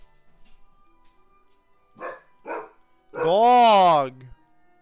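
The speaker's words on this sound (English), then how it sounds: "Dog!" A dog in the video game Digimon Survive gives two short barks followed by a longer drawn-out howl-like bark, loud and close, with a person briefly speaking around it.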